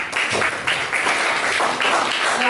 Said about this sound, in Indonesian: Ya, tepuk tangan buat dia.